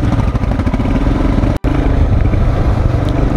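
A motorcycle engine labours loudly in first gear up a steep, narrow road toward Hidimba Temple on a rainy Ladakh ride, with a continuous close rumble and throb, briefly cut by a short gap.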